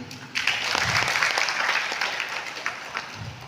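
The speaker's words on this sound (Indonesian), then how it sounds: "Apakah perlu tepuk tangan?" Applause at a regional Minangkabau community association meeting, a burst of clapping that starts abruptly and carries steadily for a few seconds before tapering slightly.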